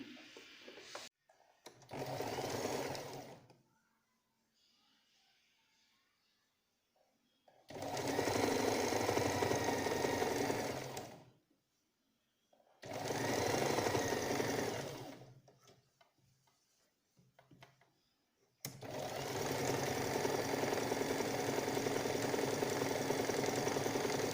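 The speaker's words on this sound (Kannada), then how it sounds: "ಈ ಒಂದು ಎಡ್ಜನ್ನ ನಾನು ಸ್ಟಿಚ್ ಮಾಡ್ಕೊಳ್ತಿದ್ದೀನಿ" A home sewing machine stitches along the edge of a cloth face mask, its motor whirring in four steady bursts separated by short pauses, close and fairly loud.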